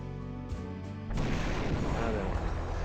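Artillery fire in Final Liberation blows up buildings: a couple of muffled thumps, then a heavier boom that opens into a sustained rumbling crash, with speech faintly present.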